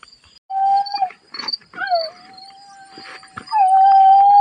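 Jackals howl in long, wavering tones, rising and falling, with several voices overlapping at a distance against a quiet night with faint insects.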